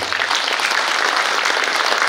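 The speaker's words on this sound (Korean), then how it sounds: "다시 한번 수고해주신 여주시민 합창단에게 뜨거운 박수 부탁드립니다" Audience applause for the Yeoju citizens' choir at a Liberation Day commemoration ceremony, a dense, steady burst of many hands clapping, loud and even for about two seconds.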